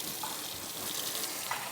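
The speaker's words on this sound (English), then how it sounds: "Turn on the sink there." Water running from a kitchen sink tap into a container, a steady broadband gush that stays constant and fairly loud for the whole stretch, with no talking.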